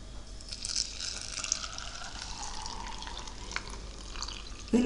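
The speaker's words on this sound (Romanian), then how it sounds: "Acum completăm cu apă" A steady trickling, splashing stream of water pours into glass jars of cherries for compote, continuous and close with light bright sputters, ending in a short louder knock.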